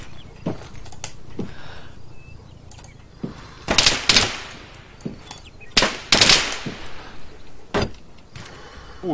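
Arma 3 gunfire from the woods, sharp loud cracks in irregular clusters, some close together, separated by quieter gaps with faint background noise.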